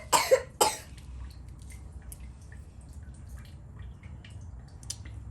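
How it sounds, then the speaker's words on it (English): Two quick coughs sound close by at the start, followed by faint dripping and a quiet low rumble from a rock tumbler running dumortierite. "Got coughing helpers."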